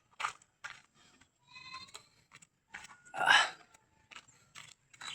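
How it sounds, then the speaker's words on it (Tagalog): Goats bleat nearby in short wavering calls, one louder drawn-out cry in the middle, separated by quiet gaps and small rustles. "Yan, dalawang kambing."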